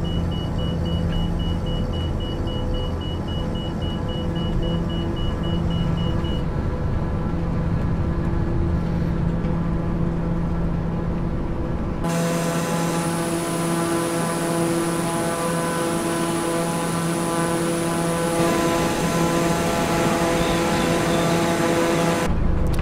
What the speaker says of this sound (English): Love all the sounds in this plane, the rattling and stuff.